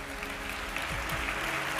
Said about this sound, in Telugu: గట్టిగా చప్పట్లు కొట్టి దేవుని మహిమపరచు.